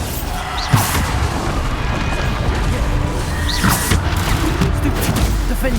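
Bombarda spell blasts in the Hogwarts Legacy combat, repeated booming impacts and crashes amid a dense, continuous battle din, with a couple of sharper bursts standing out near and loud.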